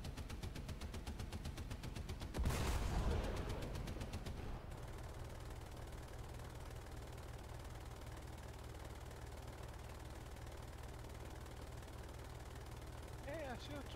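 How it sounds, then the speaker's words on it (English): Machine guns firing in the video game War Thunder: a rapid continuous rattle of shots for about four seconds, peaking in a loud burst, then fading into steady engine drone beneath a speaking voice. "Me, who felt confident in just letting loose my machine guns"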